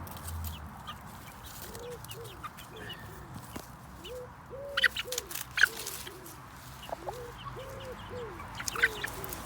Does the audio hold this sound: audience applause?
no